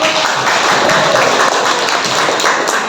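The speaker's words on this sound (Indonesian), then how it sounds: "tepuk tangan dulu dong buat kalian" A class of grade 12 students applauds in a classroom, a dense, continuous patter of many hands clapping at once, fairly loud and unbroken for a few seconds.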